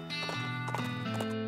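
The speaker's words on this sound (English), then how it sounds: "drunk horse walking." Hooves of a drunk horse clip-clop at a walk in the video game West of Loathing, a steady near rhythm over a sustained musical drone, with a brief whinny-like tone.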